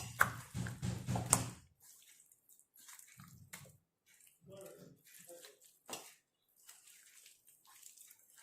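A little water is poured into a chicken masala mix for tikka or tandoori, a brief, faint splash and trickle at close range, with a person talking softly over it.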